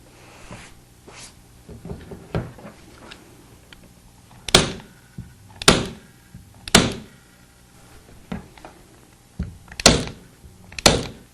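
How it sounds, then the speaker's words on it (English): A staple gun fires staples through upholstery fabric into the corner of a cornice board, sharp isolated snaps spaced a second or so apart, several in a row, with faint handling noise between shots. "now we've stapled to the corner"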